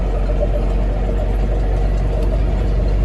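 A farm tractor pulling a soybean sprayer drives toward the field, a loud, steady low engine drone with constant rumble and no break throughout.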